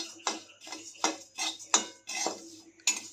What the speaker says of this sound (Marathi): पोहे मस्त खमंग भाजलेले आहेत हे मी एका डिशमध्ये काढून घेते